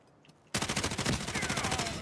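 Rapid automatic gunfire from the video game Delta Force bursts in after a quiet half second, a loud, dense stream of close shots that continues without pause to the end.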